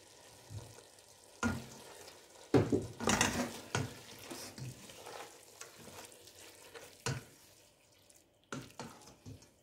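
Onions and raisins simmering in a pot for Moroccan couscous tfaya, a low bubbling cook broken by several sharp stirring and clattering knocks, moderately close with no talk.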